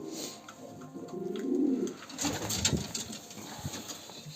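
Racing homing pigeons coo in a loft, with low soft murmuring coos swelling in the middle and continuing faintly around mixed rustling and background ambience, no talking.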